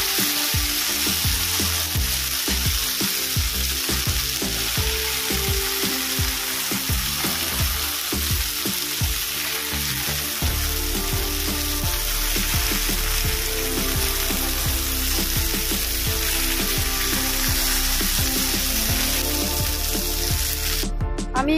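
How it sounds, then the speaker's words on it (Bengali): Sliced okra fries in oil in a kadai, giving a steady close sizzle, with scraping stirs and clinks in the first half before settling into an even hiss. "ভেন্ডিটা ভালো করে ভেজে নিয়েছি"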